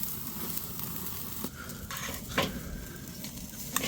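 Steak sizzling in a hot pan just after being flipped: a soft, steady frying hiss with a few light scraping and clinking touches of a utensil, fairly quiet and close, no voices.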